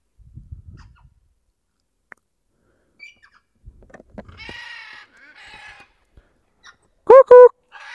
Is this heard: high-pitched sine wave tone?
no